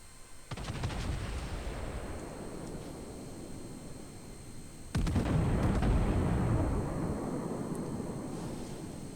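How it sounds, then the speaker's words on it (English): Big battleship guns fire twice in World of Warships naval gameplay, each salvo a heavy, loud boom with a long rolling decay, spaced a few seconds apart. "Shots coming in."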